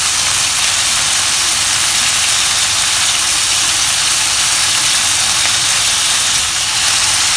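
Beef-wrapped enoki mushroom rolls sear in a hot pan with a loud, steady, close sizzle and hiss that runs without a break.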